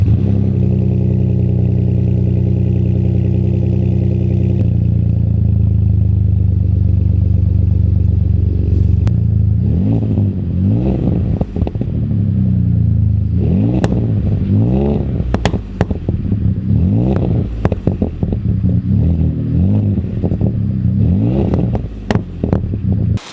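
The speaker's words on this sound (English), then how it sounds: "I'll hop in the truck and cold start this thing so you can kind of hear" A Ford F-150 pickup with an MBRP exhaust cold starts into a loud, deep idle, then is revved repeatedly in sharp bursts that rise and fall, close and alone.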